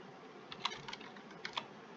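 Soft, quiet keystrokes tap in a few short, irregular clusters on a computer keyboard, close by with no talking.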